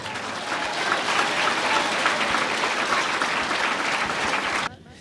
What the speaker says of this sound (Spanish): Fuerte aplausos, Iglesia de Cristo.